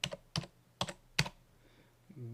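Someone types a number on a computer keyboard: four crisp, separate keystrokes spaced about half a second apart, close and fairly quiet, followed by a faint tonal sound at the end.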